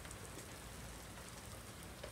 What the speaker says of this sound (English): It's completely raining.